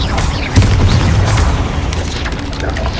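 Confringo explosive spell in Hogwarts Legacy, a loud close booming blast that swells early and rumbles on under dense combat noise.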